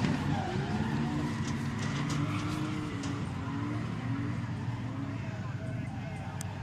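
Cars spinning out and skidding at a Powercruise event, a steady loud roar of engines with tire noise running throughout, under crowd talk and voices.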